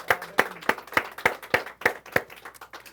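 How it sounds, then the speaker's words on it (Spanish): A single person clapping in a steady rhythm, about ten sharp claps in three seconds, close and distinct. "Un aplauso para el Eterno entonces."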